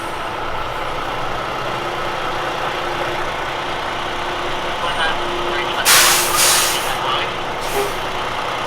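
Heavy trucks idle with a steady diesel rumble as rigs arrive at Victoria Park in Adelaide for a convoy at sunrise, with a couple of loud hissing air-brake releases near the end.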